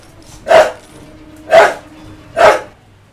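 Three loud, evenly spaced dog barks in Bioshock 2, each a sharp single bark close up with quiet gaps between.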